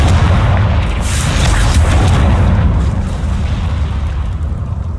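A Confringo spell explosion in a video game, a loud, deep boom that swells and rumbles continuously for several seconds, with a burst of crackling impact near the start.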